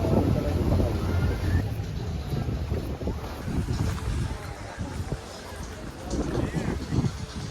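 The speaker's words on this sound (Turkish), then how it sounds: "Bizim şansımıza da rüzgar çıktı." Strong wind buffets the microphone in heavy rumbling gusts, with muffled voices and an outdoor roar underneath.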